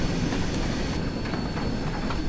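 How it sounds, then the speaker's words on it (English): A train pulls into a station on the West Somerset heritage route in Train Sim World, giving a steady, moderately loud rolling rumble with faint metallic hiss and no voices. "And there's a train pulling in now,"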